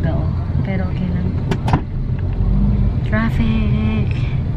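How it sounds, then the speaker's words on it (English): Dull, steady road rumble heard from inside a car stuck in traffic, a low continuous drone with faint clicks and a few light knocks, while people talk softly over it. "Traffic talaga, oh."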